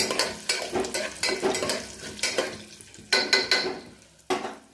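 Peanuts fry in hot oil in a pan under a continuous sizzle, broken by repeated loud scraping and stirring bursts that come in an uneven rhythm, close by and without speech.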